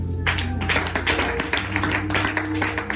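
A church congregation applauding to acclaim Jesus during a seminar, dense sustained clapping from many hands, loud and continuous throughout.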